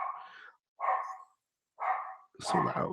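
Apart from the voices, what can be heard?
dog barking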